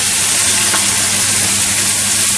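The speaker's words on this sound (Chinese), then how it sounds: "攞啲豆腐落去煎一煎佢。" Tofu pieces pan-frying in oil for a salted fish and chicken tofu pot, a loud, close, unbroken hiss of sizzling with no speech over it.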